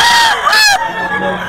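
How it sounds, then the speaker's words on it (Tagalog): Gamefowl stag at a Golden Boy sweater line market, giving a short harsh crow-like call that rises and breaks off over a steady background hum. "Basta kay Boss Russell, quality yung mga manok oh"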